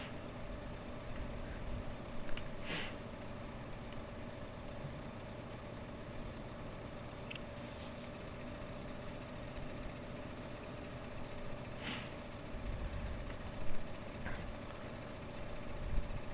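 A slow tractor in a farming game, out hauling silage bales, runs with a steady, heavy engine drone throughout, constant and close, broken only by a few brief clicks and hisses and no talking.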